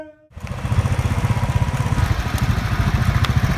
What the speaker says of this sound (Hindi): क्या बाइक मेंटेन की है यार, 10 साल तो और चलेगी आराम से।